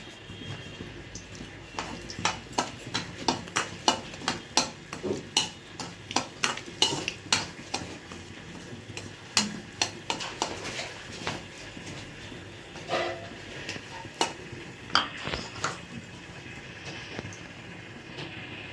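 Semolina being roasted in ghee in a pan with a spoon, giving many sharp metallic scrapes and clinks in an irregular rhythm, close and fairly loud, with no talking.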